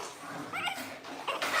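An American bully dog whimpers and yips softly in a few short, high whines, close by, against a low background of room noise.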